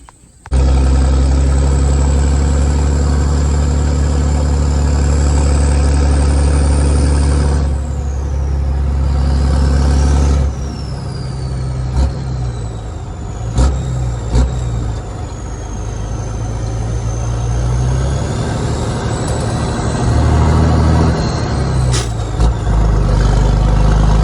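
A big five-ton truck engine runs loud and close, a deep, steady diesel rumble that holds for the whole stretch, broken by a few sharp hissing bursts like air brakes.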